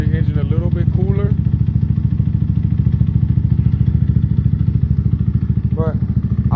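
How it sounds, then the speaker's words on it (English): A 250cc Dongfang STR motorcycle fitted with an aftermarket exhaust idles close by, its engine throbbing in a steady, rapid low pulse throughout while a voice speaks briefly over it. "But I love the sound from the aftermarket exhaust versus the stock one."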